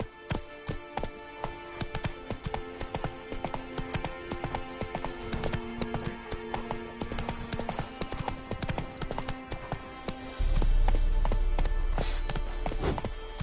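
Roach the horse gallops in Witcher 3 with steady rhythmic clip-clop hoofbeats over game music, ending in a louder low rumble near the close; a brief whinny may be present.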